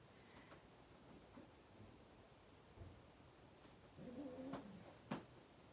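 A cat gives a brief low growl near the end, faint and close, with light rustling around it.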